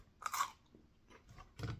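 Crunchy chicken taquitos with a crisp rolled tortilla shell being chewed up close: a few distinct crunchy bites spaced over two seconds, with no talking.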